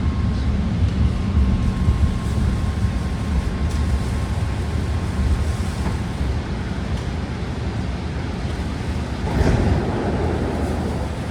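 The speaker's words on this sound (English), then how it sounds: "here we are pulling into Union City Station" BART Green Line six-car train pulling into Union City Station, a steady loud rumble of rail cars and track noise with a faint whine, swelling briefly near the end.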